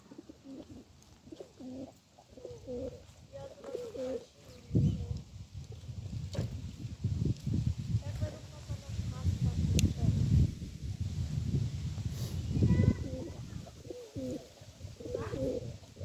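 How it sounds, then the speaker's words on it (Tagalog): Pigeons being fed give soft, repeated low cooing calls, fairly close, amid rustling and light movement, with occasional quiet human sounds in the background. "Dito naman kalapati."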